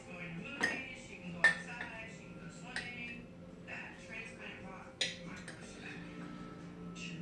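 A spoon scoops sugar into a dish for homemade banana pudding, giving several sharp metallic clinks and taps against the dish at irregular intervals, fairly quiet and close.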